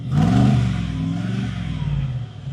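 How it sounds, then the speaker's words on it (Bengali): A car engine revs up and holds a deep, rumbling exhaust note that slowly settles, close and steady throughout. "চলেন না আমি সাউন্ডটা একজোস্টটা একটু শোনাই"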